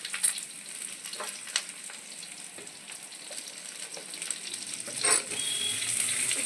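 Potatoes, beans and carrots frying in a pan, a steady crackling sizzle with scattered pops and brief stirring clatters, nearby and without any voices.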